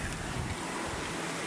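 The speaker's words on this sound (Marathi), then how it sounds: "धबधबा आता बघायला आलो इकडं." A rural waterfall swollen after a storm roars with a dense, continuous rush of water, close and steady, mixed with some wind noise and no talking.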